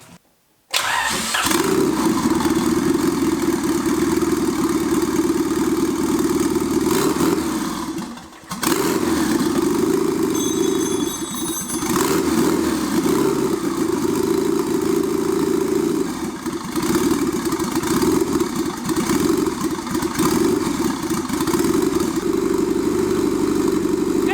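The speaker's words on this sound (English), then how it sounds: "So I'm gonna fire this thing up and let's see what it sounds like." A Honda engine fitted with triple compound turbochargers cranks, catches and settles into a loud, steady idle that runs for over twenty seconds, with one brief dip early on.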